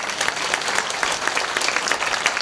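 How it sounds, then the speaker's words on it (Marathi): Dense, steady audience applause fills a Hari kirtan gathering held as a memorial Ganga puja, with continuous loud clapping throughout and no voices on top. "एकदा परडे परिवारासाठी मोकळ्या मनाने जोरदार टाळी वाजवा"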